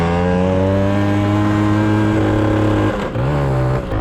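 Jianshe 80 dirt bike engine held at a steady, loud buzzing rev, then briefly dropping and climbing again as the rider struggles to raise revs and shift gears, running rich.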